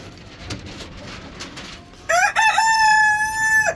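A rooster crows once nearby, a loud, drawn-out cock-a-doodle-doo that bursts in after a stretch of quiet barnyard background and holds to the end.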